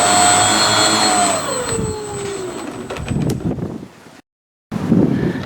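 Electric motor and propeller of an RC model Piper Tomahawk airplane during a ground taxi test, a whining tone sliding downward in pitch under wind buffeting, then a brief dropout before noise resumes.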